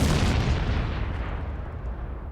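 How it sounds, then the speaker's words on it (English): A heavy boom sound effect, a single deep blast that rumbles and slowly fades over about two seconds, loud and alone with no voices. "Boom."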